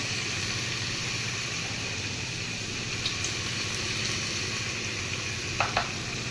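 Turmeric, salt and red chilli sizzle with tomatoes in a hot pan as they are stirred. A dense, steady frying hiss runs close throughout, with a couple of faint scraping clicks near the end.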